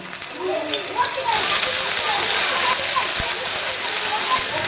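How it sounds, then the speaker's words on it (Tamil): Ginger garlic paste hitting hot oil in a pan for a prawn thokku, a loud, dense sizzle that surges up partway through and keeps crackling steadily, with someone talking over it. "எண்ணெய் காஞ்சிருச்சு இஞ்சி பூண்டு விழுது"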